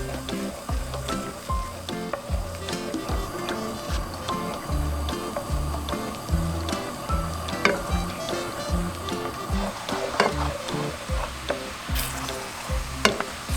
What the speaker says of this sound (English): we're gonna let this kind of cook up, sizzle up basically, for a few minutes